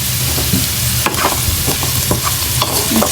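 Turmeric being stirred into potatoes and spinach frying in a pan, with a steady sizzle under repeated scraping strokes of a spoon, close and continuous with no talking.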